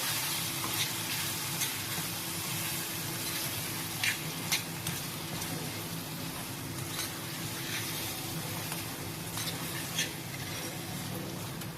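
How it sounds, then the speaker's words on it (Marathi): Crushed peanuts sizzle steadily in hot oil for a guava pickle, a continuous loud frying hiss broken by occasional light scrapes of a spatula, with no talking. "दाण्यांचं कूट या तेलामध्ये थोडंसं परतून घ्यायचं"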